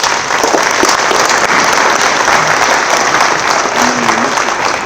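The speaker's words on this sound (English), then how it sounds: "Let's give them a round of applause." Steady, loud applause fills the room at a political candidate forum, many hands clapping continuously with a low murmur of voices underneath.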